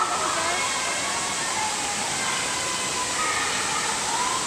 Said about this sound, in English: Walking around this corner to the waterfall.